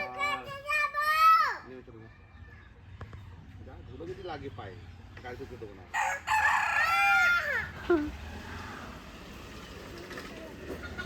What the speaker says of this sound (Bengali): দেখো কেমন মুরগিগুলো